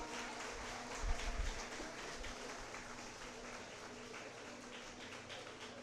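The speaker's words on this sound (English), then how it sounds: "can we have a huge round of applause" Faint, distant audience applause at a university foundation day ceremony, a steady patter of many hands clapping with a brief louder thump near the start, low in level throughout.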